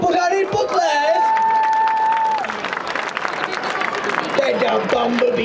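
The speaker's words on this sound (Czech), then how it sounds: "No tak já bych poprosil pořádný potlesk." A crowd applauds and cheers at a live event. A voice calls out over the dense clapping, and a steady tonal sound runs beneath the noise for a moment.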